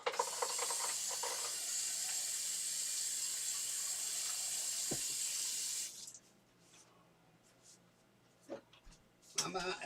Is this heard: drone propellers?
no